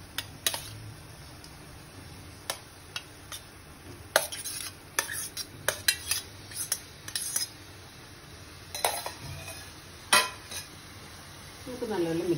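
Prawns, a kilo of them, turmeric-coated, go into a hot pan and get stirred, with sharp scattered clinks and scrapes of a spoon against metal over a soft sizzle, loud and close.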